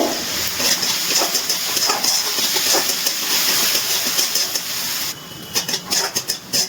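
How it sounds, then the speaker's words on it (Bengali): Chopped large onions fry over a high gas flame, giving a loud, steady hiss and sizzle that keeps up throughout with a few brief crackles near the end. "সেটা ভেজে নিচ্ছি গ্যাসের ফ্লেমটা হাইতে দিয়ে পেঁয়াজটা ভালো করে ভেজে নেব"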